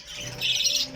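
Pet budgerigars chirp in a home breeding aviary, a short burst of bright, close twittering that grows busier and louder toward the end.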